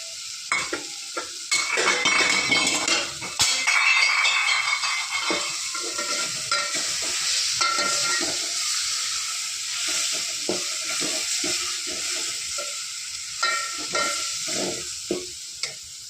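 Egg and vegetables stirred and frying in a pan at home, a steady sizzle with repeated scraping and clinking of a spoon against the metal, close and fairly loud, no talking.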